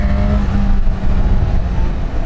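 A Honda CB1000 Hornet 1000cc inline-four naked motorcycle engine runs loud and close with a steady deep roar, rising slightly as it revs, with no one talking.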